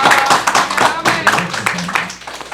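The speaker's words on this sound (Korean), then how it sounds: "우리 환영의 박수 한번" A church congregation claps together in brisk, scattered welcoming applause, with voices talking over the clapping.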